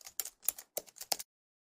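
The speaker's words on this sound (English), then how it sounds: "Now click on the search box and type here msconfig" Someone types a short word on a computer keyboard, a quick burst of about six light key clicks in uneven rhythm, close and clear, ending in silence.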